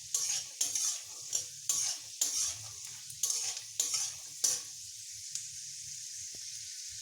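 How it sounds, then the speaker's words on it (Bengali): Peanuts fry in hot oil, and regular scraping stirs about once a second ride over a constant crackling sizzle that carries on alone near the end. "বাদামটা একটু বেশ লাল লাল করে ভেজে নেব।"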